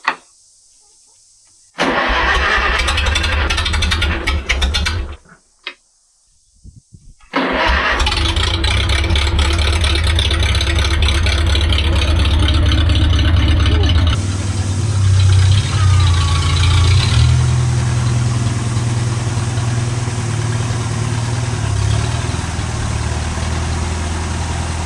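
A vintage machine's engine is started using the choke: a few rough cranking attempts broken by short silences, then it catches and settles into a steady, loud, close idle that runs on.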